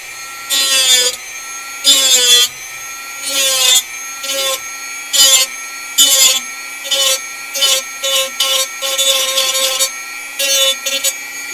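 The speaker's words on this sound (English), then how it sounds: "need to Dremel down this nub a little bit more because I just clipped it off" A Dremel rotary tool grinds down a clipped plastic nub on a model kit part. It comes in about a dozen loud, close, whining bursts of a second or so, separated by brief pauses, with no talking.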